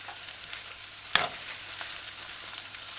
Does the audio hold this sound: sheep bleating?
no